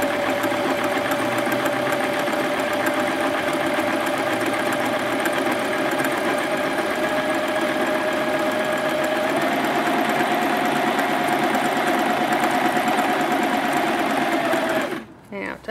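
Sewing machine stitching a 3-step zigzag seam, a close, steady mechanical whirring hum running continuously, rising slightly in pitch midway, then stopping abruptly at the end.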